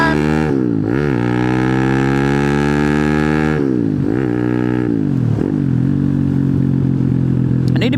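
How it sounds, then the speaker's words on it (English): A Honda Grom clone motorcycle with a swapped 212 engine and aftermarket muffler rumbles with a deep, throaty exhaust, revving up through several gear changes as it accelerates close by. "I'm digging this muffler anyway, just for the throatier sound."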